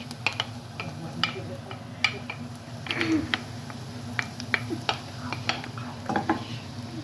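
A wooden spoon stirs onions and garlic in a pan, giving soft, irregular taps and scrapes over a low, steady sizzle, heard up close.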